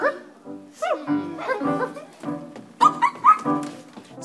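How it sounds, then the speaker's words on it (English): Dogs bark in a run of short, close yips and barks, some with a whimpering tone, at an elementary school performance. "I think that there's dogs outside that wanna eat all of my Corgi Toast."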